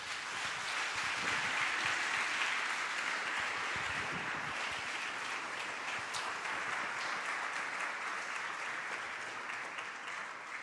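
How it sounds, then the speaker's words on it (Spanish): A congregation at a Sunday church service gives a loud, sustained round of applause to the Lord, dense clapping filling the room steadily for about ten seconds and tapering slightly at the end. "demos un fuerte aplauso al Señor"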